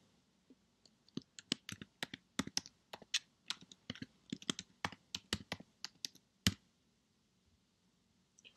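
A computer keyboard typed on to enter a title, with a quick irregular run of crisp close key clicks for about six seconds, then quiet.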